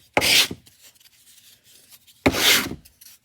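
Two short, loud abrasive strokes of sandpaper rub along the edges of thin wooden business cards, separated by a quiet gap, close up and with no talking.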